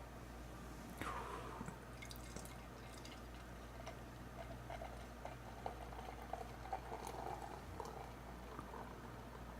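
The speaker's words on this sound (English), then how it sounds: "I'm going to pour it into," Founders Dirty Bastard Scotch ale pours from a bottle into a snifter glass. Faint liquid glugs and drips run quietly over a low room hum, with no voices.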